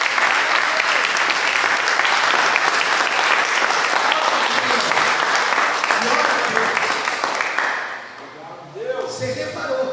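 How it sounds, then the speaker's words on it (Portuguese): A church congregation applauds during a Wednesday prophetic service, a dense, loud roar of many hands clapping that holds steady for several seconds, then thins and fades as a voice begins speaking. "Você pode aplaudir a Deus?"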